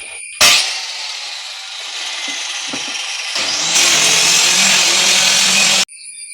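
A power saw cuts a board for a home theatre cabinet, a loud steady whine running almost the whole time, rising and brightening partway through, then stopping abruptly near the end.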